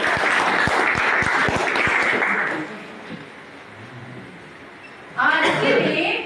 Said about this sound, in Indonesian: terima kasih beri aplaus